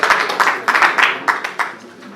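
A golf tournament prize-giving audience claps for the chairman, a brief spell of scattered hand claps in uneven bursts that thin out and fade within a couple of seconds.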